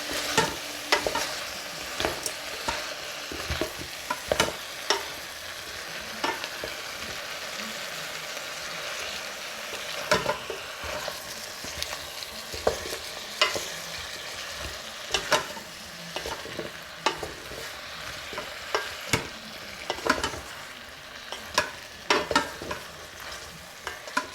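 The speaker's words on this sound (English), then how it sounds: "And mix it really well." Vegetable biryani with frozen mixed vegetables being stirred and mixed in a pan, a continuous soft sizzle broken by repeated sharp scrapes and clacks of the spoon against the pan.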